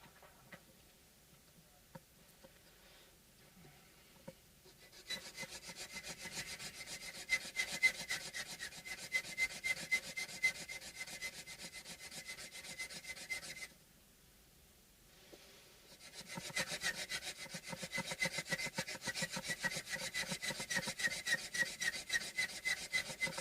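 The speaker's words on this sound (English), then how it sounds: "So I moved the sandpaper a little bit like that." A wooden bridge for a vintage Japanese Barth guitar is sanded with sandpaper in steady, rapid back-and-forth strokes, two long close bursts of rasping with a brief pause between them.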